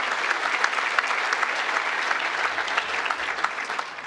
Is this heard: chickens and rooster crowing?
no